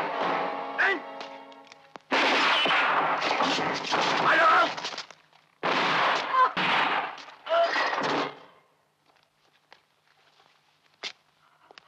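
Gunshots ring out in a tense film scene from a 1977 Italian movie, sharp loud bursts in several clusters separated by short pauses, then faint scattered clicks and near silence.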